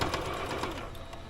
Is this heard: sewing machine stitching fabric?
yes